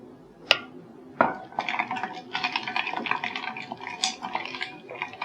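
A spoon stirs bael juice sherbet with mint leaves in a glass, giving a run of light clinks and rattles against the glass after two sharp taps, close up and fairly quiet with no talking.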